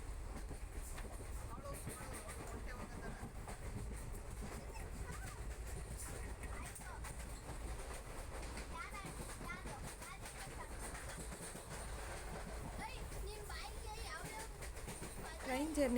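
Passenger train on the Mandya to Murudeshwara journey, heard from inside as a continuous low rumble and rattle of wheels on rails, steady and fairly quiet throughout.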